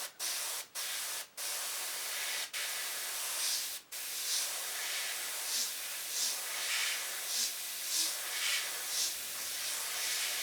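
An airbrush sprays paint for round shading in a continuous loud hiss that cuts off briefly several times early on, then settles into a steady spray with faint rhythmic pulses.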